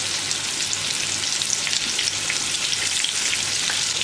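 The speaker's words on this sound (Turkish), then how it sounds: "Yağın içerisine atıp alma süren bir 10 dakika falan, 10 dakikada da zaten kabaklar rahatlıkla pişer." Courgettes deep-frying in hot oil give a steady, dense sizzle with constant crackle and spit, close and even throughout, with no voices.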